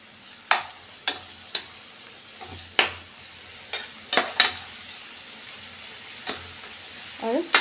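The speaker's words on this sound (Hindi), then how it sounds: "ये सब डाल के हम अच्छे से भून लेंगे इसको।" Ground coriander, green chilli and garlic paste fry in a pan for dhaba-style egg bhurji, a low steady sizzle broken by sharp scrapes and clinks of a spoon stirring against the metal at irregular intervals, close up with no talk.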